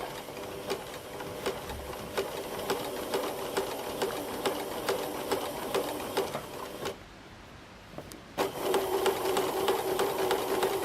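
A sewing machine running a regular stitch across a quilt star block, its rapid mechanical needle rattle steady and close, pausing briefly near the end before resuming at full pace.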